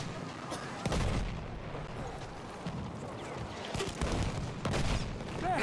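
Gunfire and artillery-like booms from the Battlefield 1 shooter game, with repeated loud broadband shots at uneven intervals over a dense background of battle noise.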